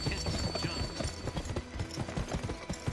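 Horse hooves gallop in a steady, rapid clip-clop in the video game Gun, loud and close, with the beat continuing without a break.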